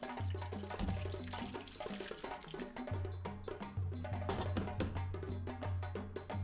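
Running tap water rinsing a dish in a home kitchen while pork chops and potatoes are being cooked Maltese style, a continuous splashing rush close by with shifting tone.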